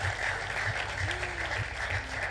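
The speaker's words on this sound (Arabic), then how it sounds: "اسمع صوت عالي جمهور، نبي تشجيع المتسابقين في نتائجهم" Studio audience on an Arabic evening variety show cheering and clapping on cue before results are announced, a steady loud wash of applause with pulsing cheers throughout.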